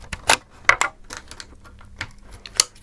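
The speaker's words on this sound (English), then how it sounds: "Just using the Lexan scissors, of course." Lexan scissors snipping a clear polycarbonate RC car body for a Kyosho Turbo Optima Mid Special, a series of sharp, close clicks and crackles at irregular intervals against quiet.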